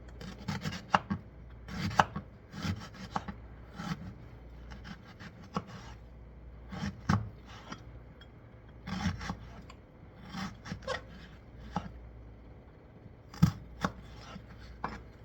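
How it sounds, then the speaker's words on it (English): Salsa ingredients are chopped with a knife on a cutting board, giving irregular bursts of sharp near knocks and scraping strokes, some quick clusters and some isolated loud hits, with no talking. "Just chop it up."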